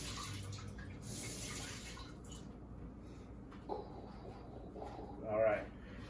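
A lemon slice being rinsed under a running kitchen tap, with a soft steady rush of water and a brief louder splash near the end, close by.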